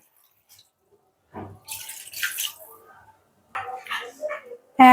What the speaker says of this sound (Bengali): এখন আমি ঝোল দিয়ে দেব দেড় কাপ পরিমাণ